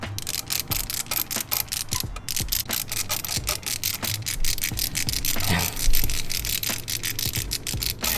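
A ratchet working a spark plug loose on a BMW E90 335i, giving a long run of quick, repeated clicks and scrapes, close and fairly steady with a brief louder grind near the end.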